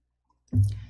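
A single sharp click of a computer mouse, close and alone after silence.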